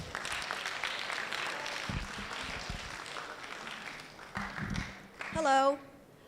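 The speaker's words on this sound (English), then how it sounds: "Let's give her a round of applause." Audience applause at a college financial aid information session for seniors, a steady spread of clapping filling the room, moderately loud, with a voice breaking in near the end.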